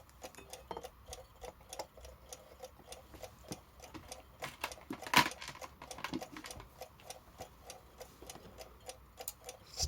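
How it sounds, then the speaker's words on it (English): A Badische striking alarm clock with its bell fitted ticks loudly and steadily, sharp close-up clicks in an even rhythm, with a brief louder knock midway and no talking. "ticking really loud now"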